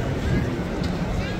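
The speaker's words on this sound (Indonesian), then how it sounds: "Ni pemandangan keluar angin kuat eh. Angin sangat kuat hari ni." Strong wind blowing outdoors at night after the Isha prayer during an Umrah trip, a steady low roaring rush close to the microphone with constant buffeting.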